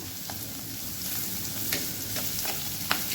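Pirandai (veld grape) stems are sautéed in a pan, giving a continuous hiss of frying with several light scraping clicks of a spatula spaced through it.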